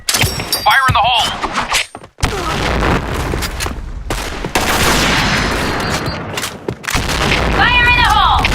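In the video game Insurgency: Sandstorm, a grenade blast lands as a loud, roaring burst amid rattling gunfire, with shouting voices and radio-like calls breaking in around it.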